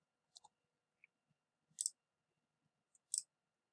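A few sparse, quiet clicks from keys being typed on a computer keyboard sound in a silent room, with two slightly stronger keystrokes standing out.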